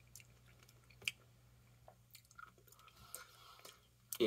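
Faint, close chewing of cheap, flavourless Super Mario chocolate, with soft wet squishy bites and small mouth noises scattered over a quiet background, plus a louder burst at the very end.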